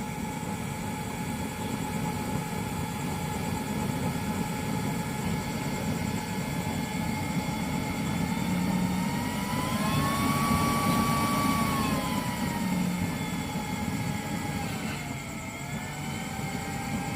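A used-oil burner stove of the Lighten type, freshly started and not yet fully hot, gives a steady, even roar with a faint whistling tone that rises and falls slightly, continuous and close throughout.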